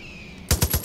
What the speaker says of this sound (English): We're shooting at him, but nothing's happening.